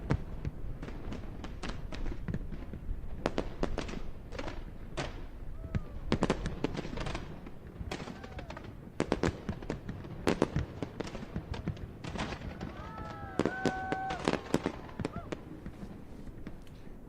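Fourth of July fireworks exploding in a rapid, irregular barrage of sharp bangs and crackles, some near and loud, others fainter, with a few whistling rockets rising near the end and occasional voices underneath.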